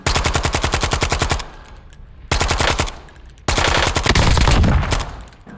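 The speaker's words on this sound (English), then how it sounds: "I'm shooting." Rapid automatic gunfire in Black Ops 6, three loud bursts of fast evenly spaced shots, the last burst longest, with brief gaps between and no talking.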